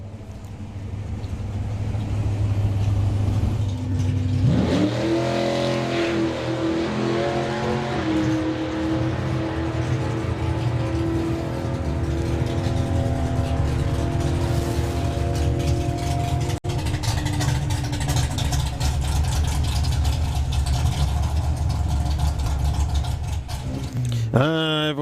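Race cars roar off the line side by side at a drag strip, engines revving and rising in pitch through the gears, loud and sustained for over twenty seconds with another launch near the end.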